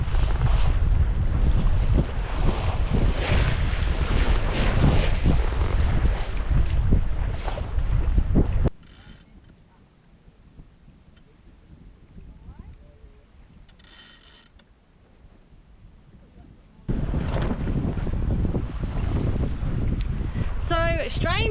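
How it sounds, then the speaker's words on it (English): Wind at 18 knots while sailing dead downwind on a sailboat in the Mediterranean, heavy rushing buffeting on the microphone that drops away to near quiet midway and then returns, with rigging creaks and some voices. "the wind has picked up to 18 knots, which was not forecast"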